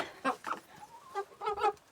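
Ross 708 broiler chickens, about two and a half months old, clucking in short, choppy bursts, several birds close by, with brief pauses between calls.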